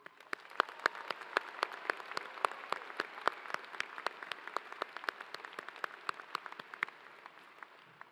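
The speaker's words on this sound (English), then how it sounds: "Can we give all of this year's distinguished engineering graduates a final round of applause?" Audience applause at an engineering undergraduate commencement honoring distinguished graduates, a thin scattering of distinct claps from many people, fairly distant and steady across the whole stretch.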